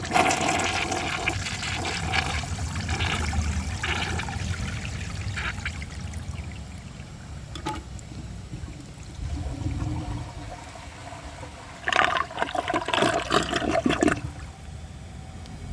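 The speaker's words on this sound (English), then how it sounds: "I'm just going to give it another flush so we can watch the bowl fill up" A 2000 Mansfield Alto comfort-height toilet flushes with a strong rushing swirl, then the bowl refills with steady trickling water, ending in a gurgling siphon surge near the end; close and loud, no talking.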